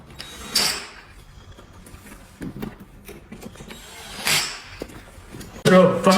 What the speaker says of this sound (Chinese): 将其盖在机架顶上，然后轻轻的往左侧推，将这里对齐。